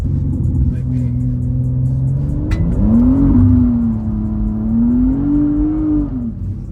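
A BMW M car accelerating on wet roads in the rain, its engine note droning and rising then easing through the gears, heard from inside the car while people talk.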